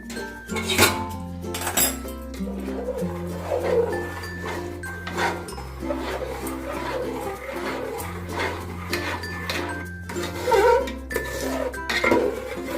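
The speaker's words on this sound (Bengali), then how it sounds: "দুধটা দিয়ে মেশাতে থাকবো অল্প দিলাম প্রথমে" A utensil clinks and scrapes against a pot while milk is stirred into date-palm jaggery payesh, with repeated close metallic knocks and swirling strokes over low background noise.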